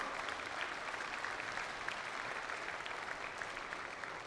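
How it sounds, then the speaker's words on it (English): A graduation ceremony audience claps in steady, dense applause at a moderate distance, continuing evenly throughout without pause. "Give him a round of applause."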